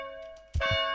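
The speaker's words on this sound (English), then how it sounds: "I like the tolling bell counting down, gives you your 4 minutes" A tolling bell in a video game, used as a countdown: a sustained ringing tone with long harmonics, and a second heavier strike lands about halfway through and rings on, fairly loud and alone.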